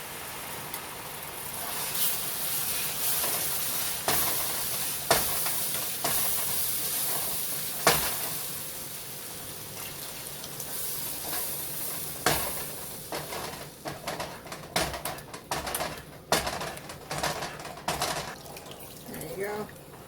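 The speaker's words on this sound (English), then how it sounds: "so you're going to slowly add in your beef broth" Beef broth poured slowly into thickening gravy in a pan, with steady stirring, scraping and a soft sizzle, plus a few sharp utensil clicks; a person talks over it.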